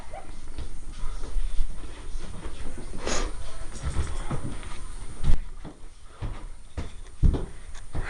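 A dog whimpers in short, soft whines at close range, scattered among indoor knocks and shuffles while people chat nearby.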